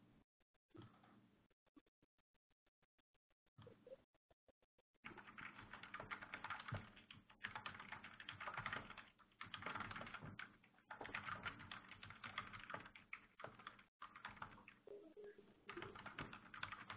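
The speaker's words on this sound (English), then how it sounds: "Just typing a quick message." Someone types a quick message on a computer keyboard: sparse, evenly spaced taps at first, then a dense, steady clatter of keystrokes that runs on with brief pauses, close and without talk.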